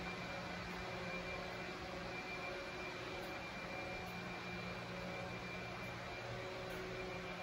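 A 10-station Muller Martini Tempo 22 pocket saddle stitcher, a 2002 machine rated at 22,000 an hour, runs as a constant broadband mechanical roar and hiss with steady hum, filling the space evenly without pause.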